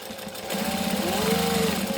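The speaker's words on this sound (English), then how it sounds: "And I'm going to stitch that." A sewing machine stitching a fabric seam, starting after a brief quiet moment into a steady, fast, even mechanical whir with a rhythmic hum that holds close and fairly loud.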